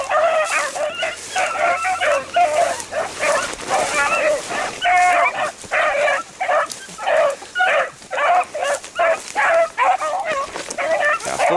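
Hunting dogs, four on the ground, baying in a dense, continuous chorus while running a rabbit during a hunt in Lawrenceville, Virginia, with overlapping yelps and bawls throughout.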